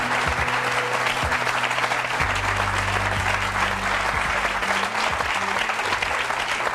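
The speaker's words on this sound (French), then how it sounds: "je vous demande de les applaudir très chaleureusement" Warm, sustained applause from a television studio audience, a dense continuous roar of many hands at even loudness, with a low hum and faint murmurs underneath.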